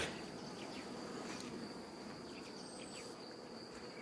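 A steady insect-like drone of many bees buzzing close by at a hive, continuous and fairly even, with faint high chirps scattered through.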